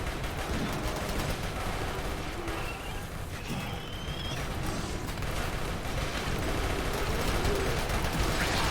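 Gunfire rattles at big mechs in the RimWorld video game, a dense, continuous barrage of game combat noise with overlapping shots and impacts throughout.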